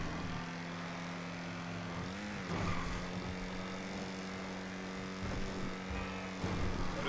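Go-kart engine in the video game GTA Online, a steady buzzing, rattly drone that rises and falls in pitch with throttle changes and runs continuously, with no talk.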